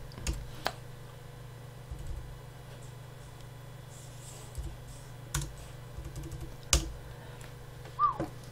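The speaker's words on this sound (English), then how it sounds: "we end up typing Samantha in there and we hit enter." Sparse, scattered keystrokes tap now and then over a low steady hum, a few isolated clicks rather than continuous typing.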